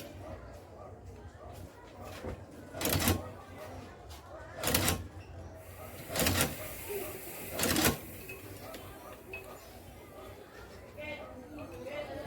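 A light-duty sewing machine stitches Vans shoe fabric in four short bursts of rapid whirring separated by pauses, with a person talking quietly in the background.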